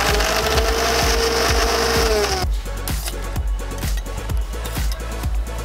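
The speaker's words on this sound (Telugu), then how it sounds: "ముందు ఇందాక వేయించి పెట్టుకున్న ఎండుమిరపకాయలు ఫస్ట్ గ్రైండ్ వేసుకుని, తర్వాత ఈ చుక్కకూరని కూడా అందులో" A mixer grinder grinds fried dried red chillies and chukkakoora for chutney, at first a loud steady whir, then a rough, rhythmic churning with repeated knocks as the jar spins. No talking.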